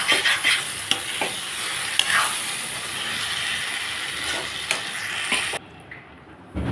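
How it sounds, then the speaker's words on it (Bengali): Small jira fish with mustard paste are stirred in a frying pan, a continuous sizzle with scraping spatula strokes that cuts off abruptly near the end as the pan comes off the heat. "এই যে এখন আমি নাড়াচাড়া করে নামিয়ে হয়ে গেছে আমার জিরা মাছের সরষে বাটা দিয়ে"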